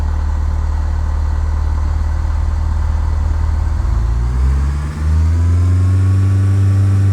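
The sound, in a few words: aircraft engine throttled to full power, video game Microsoft Flight Simulator X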